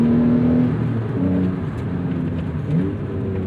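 A manual 1991 Acura NSX engine hums steadily from inside the cabin, then its revs rise briefly in a throttle blip during a heel-toe downshift.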